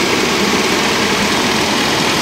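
A 1998 GMC Sierra C1500 pickup with a 4.3-liter engine idles steadily and loudly nearby with its AC compressor running, giving a continuous low mechanical drone.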